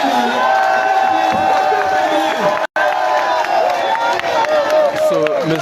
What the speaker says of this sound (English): So please, everyone give a round of applause for John Siafa.